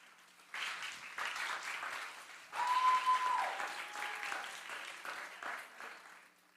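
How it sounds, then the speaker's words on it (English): An audience at an ISKCON Dallas temple event applauds in a sustained, fairly soft wash of clapping that swells midway and then tapers off, heard from a distance, with no speech over it. "Let's give another round of applause, please, to Priyatama, Yovana, Janardhan, Ethan, and"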